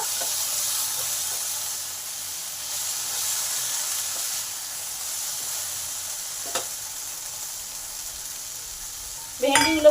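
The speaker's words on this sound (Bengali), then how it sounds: "ভাজা ভাজা হয়ে গেছে এবার নামিয়ে নেব" Okra (bhindi) fries in a pan with a continuous close sizzle, then a short clatter of stirring near the end.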